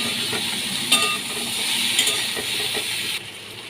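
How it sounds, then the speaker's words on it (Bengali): Shrimp being sautéed with a spoonful of sugar in a pan, giving a steady close sizzle and hiss with brief stirring scrapes, no talking. "এর মধ্যে আমি এক চামচ চিনি দিয়ে দিলাম ভালো করে কষিয়ে নিচ্ছি"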